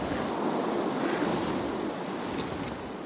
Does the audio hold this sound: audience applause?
no